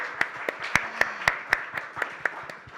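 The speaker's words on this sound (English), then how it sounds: "So huge round of applause to each one of you in the room." A room of guests at a campaign launch event claps in a round of applause, with sharp, evenly spaced claps about every quarter second, fairly close and moderately loud.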